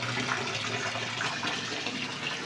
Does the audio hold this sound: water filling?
yes